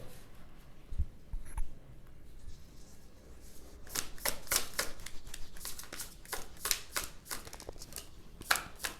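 Tarot cards shuffled by hand, first a few scattered taps and slides, then a quick run of crisp riffling flutters close up, repeated in rapid bursts for several seconds with no talking.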